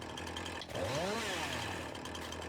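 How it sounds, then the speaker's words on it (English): A chainsaw in Farming Simulator 19 cuts into a tree, its engine snarling and rising in pitch as it bites through the wood, then settling back to a steady idle buzz, loud and close. "Hey, give me back my chainsaw."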